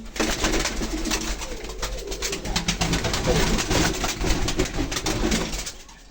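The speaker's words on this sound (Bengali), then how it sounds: "এই দেখুন, এটা কালাঙ্কা চোখের পায়রা।" Pigeons in a loft, among them a black-eyed pigeon, coo loudly and steadily up close, their overlapping calls filling the space without a break.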